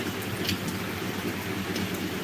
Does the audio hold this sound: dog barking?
no